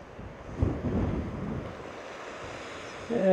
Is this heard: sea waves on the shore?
yes